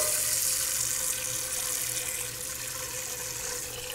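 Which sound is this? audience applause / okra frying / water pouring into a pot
water pouring into a pot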